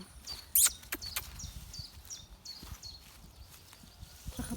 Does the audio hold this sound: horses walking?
yes